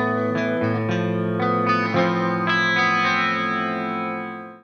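Electric guitar plays a riff through effects such as chorus and distortion, with sustained, layered notes ringing loud and alone for several seconds before fading out.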